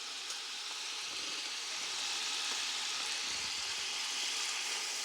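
Water poured into a pot of drained basmati rice for peas pulao, a steady close hiss and rush that holds for several seconds without a break.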